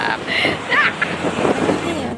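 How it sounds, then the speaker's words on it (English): Strong wind buffeting the microphone outdoors in BGC in the Philippines, a steady rumbling roar under traffic noise, with a voice speaking briefly over it. "the wind is super windy"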